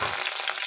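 Green chillies, coriander and mint frying in oil for an Andhra-style chicken curry, giving a short burst of bright, steady sizzling with light stirring.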